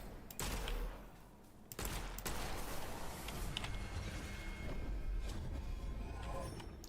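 Rapid sniper rifle and automatic gunfire in a shooter video game, a dense sharp burst of cracks running for several seconds with brief pauses, fairly loud and close.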